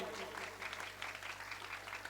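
Strong applause from a large crowd at a Jain religious festival sermon in a tent pavilion, a continuous even wash of clapping from start to finish.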